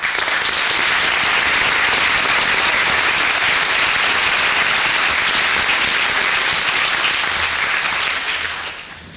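Audience applause at a graduation ceremony honoring World War II veterans, a steady, dense wash of clapping from a large crowd that holds loud and even for about nine seconds before tapering at the end.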